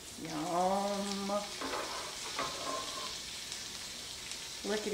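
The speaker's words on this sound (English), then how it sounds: "Listen to that sizzle." Meat and pepper sizzle in a pan while cooking breakfast burritos, a loud frying hiss with stirring scrapes in bursts, close and without talk.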